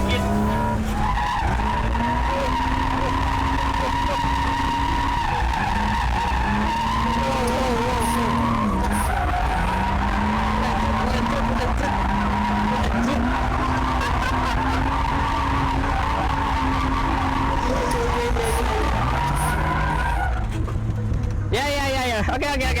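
A drift car slides with tires skidding and squealing in long, loud, wavering howls, engine droning beneath and voices talking over it, with a brief break and a final burst near the end.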